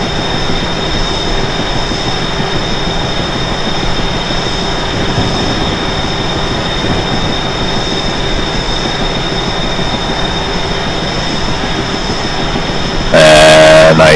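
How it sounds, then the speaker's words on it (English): Steady, loud rumble and rush of a train at top speed on the Northeast Corridor, with continuous wheel and track noise, ending with a brief horn-like tonal burst. "I think we're more or less at the max speed that the train's capable of going"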